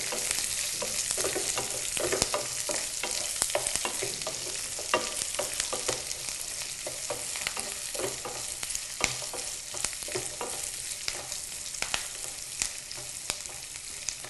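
Small-cut chopped onions frying in oil for a potato upma curry, a dense continuous sizzle and crackle with frequent small spatters, steady and close throughout, no speech.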